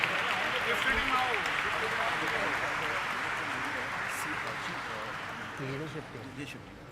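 Applause from an audience at a stock exchange bell ringing ceremony for Vodafone Idea Limited, a steady dense wash of clapping that holds for several seconds and slowly tapers, with some voices underneath.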